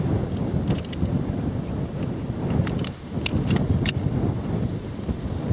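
Steady wind buffets an outdoor shooting range, a constant rumbling roar against the microphone with a few brief higher clicks and knocks over the top, and no talking.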